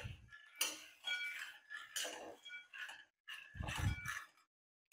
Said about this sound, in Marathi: आता हे आपण हलवून घेऊयात.